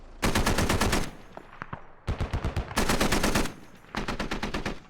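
Caliber machine-gun fire in the military shooter Squad, loud rapid bursts of close automatic shots in several long strings with brief pauses between them.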